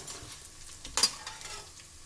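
Urad dal fries in oil in a pan over a low flame for lemon rice, with a soft crackling sizzle and one brief louder spatter, close and quiet with no voices.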